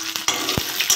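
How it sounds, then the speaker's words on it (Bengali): Onions and green chillies frying in hot oil, a bright, close crackling sizzle with quick spatula scrapes and stirring knocks. "ভালো করে ভেজে নেব"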